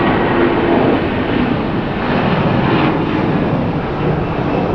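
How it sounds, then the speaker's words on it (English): Boeing 757 jetliners departing LAX, one after another in a dual takeoff, with Pratt & Whitney engines: a loud, steady jet roar with broad rumble that fills the whole stretch without letup. "Looks like we have a dual 757 takeoff here."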